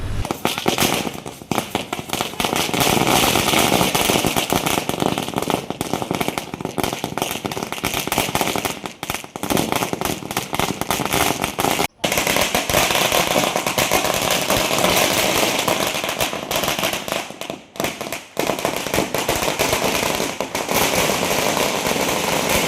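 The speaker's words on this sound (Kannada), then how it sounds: "ಪಟಾಕಿ ಸಿಡಿಸಿ ಸಿಹಿ ಹಂಚಿ ಸಂಭ್ರಮಿಸಿದರು" Firecrackers burst in a dense, loud, continuous barrage at a street celebration in Gulbarga marking an election as chair of a standing committee, with only momentary gaps between the crackling volleys.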